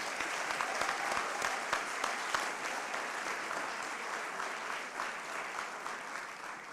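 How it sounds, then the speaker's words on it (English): An audience at a 2023 graduation ceremony gives the graduates a sustained round of applause, many hands clapping evenly, heard faint and somewhat distant in a large hall. "So please give these graduates another round of applause for me,"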